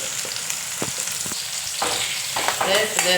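Small onions fry with a bright, constant sizzle in a pan for a tuna fish curry, broken by several quick scraping stir strokes, close and moderately loud.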